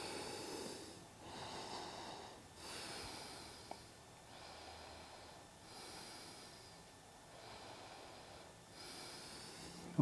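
Deep, slow breathing during yoga child's pose, steady soft inhales and exhales repeating in a calm rhythm, close and quiet with no talking.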